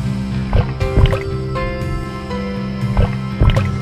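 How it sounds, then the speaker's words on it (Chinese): Dried vegetables dropping into a pickle jar of brine, with a few close watery plops and gurgles at irregular intervals over a steady background hum. "晾好的蔬菜放入坛子内"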